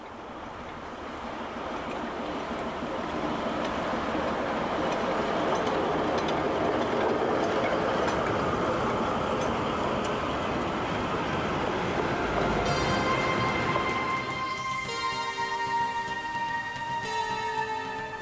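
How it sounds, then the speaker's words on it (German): A museum train hauled by a DB V60 diesel locomotive runs through flat countryside, its steady rolling rumble and rail noise swelling and holding, with faint squeals and clatter toward the end. "Flaches Land und ein schöner Museumszug."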